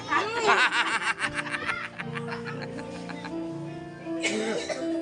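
A few harsh coughs up close at a resort in Pili, Camarines Sur, mixed with laughter-like bursts and voices at the start, then a steady hum behind.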